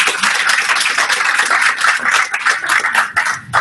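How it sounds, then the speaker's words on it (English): An audience applauds at a presentation on universal design for learning, a dense, steady burst of clapping lasting a few seconds with no voices over it. "I wanted to just another round of applause for both Anne and Charlotte"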